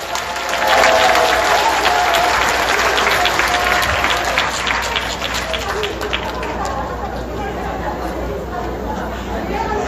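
Audience applause at a church conference welcoming a professor to the stage, dense and steady throughout, with crowd chatter and voices underneath as the clapping gradually eases.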